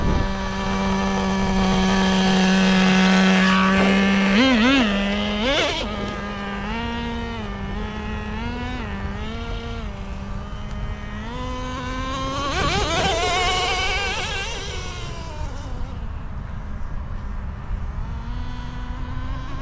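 A Traxxas Nitro Rustler 2.5 nitro RC truck on sand paddles runs on a beach. Its small engine screams steadily, then rises and falls through repeated throttle blips and revving swells, staying loud and close.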